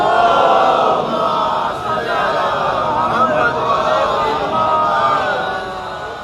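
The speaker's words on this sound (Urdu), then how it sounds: "آپ حضرات سے التماس ہے باواز بلند نعرے صلوات پڑھنا" A large gathering at a Shia majlis chants salawat loudly in unison, a dense, sustained wall of many voices holding steady for several seconds before easing slightly at the end.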